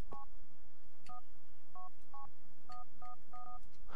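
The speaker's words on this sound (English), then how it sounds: "Actually, let's call Carmen." A mobile phone in GTA IV dials Carmen, giving a run of short dual-tone keypad beeps in an uneven sequence of about eight presses over a faint background hum.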